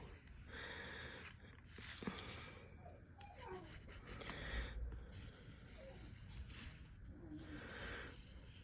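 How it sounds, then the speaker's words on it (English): Dogs bark somewhere in the background of a home craft session, faint and intermittent against steady room noise and handling sounds, never loud or close. "I don't know why the dogs are barking."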